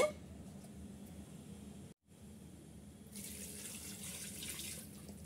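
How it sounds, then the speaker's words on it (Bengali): Water runs from a tap into a pot of beef shank for haleem, a steady rushing pour with a short break near the middle, then a brighter, splashier stream as the pot fills. "পানি দিয়ে দেব।"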